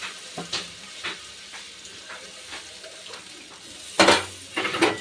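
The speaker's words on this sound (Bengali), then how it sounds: "এবারে আমি যে মশলাটা ছিল সেই মশলাটা পুরো আমি দিয়ে দিলাম তেলের মধ্যে" Spice paste dropped into hot oil for a Bengali fish kalia, crackling and sizzling steadily with scattered metallic scrapes of stirring, then a louder burst of sizzle near the end.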